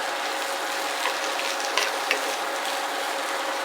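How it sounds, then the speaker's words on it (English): Mushrooms sautéing in a pan with bacon for stuffed rainbow trout, giving a steady close broadband sizzle with a few brief scraping stir clicks and no talking. "once the mushrooms start releasing its liquid, we're going to just stir these up till that liquid starts to evaporate a little bit"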